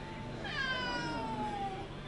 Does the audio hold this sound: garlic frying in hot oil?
no